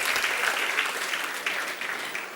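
Brief round of audience applause for a guest at a motivational talk, an even patter of many hands clapping at moderate distance with no talking over it.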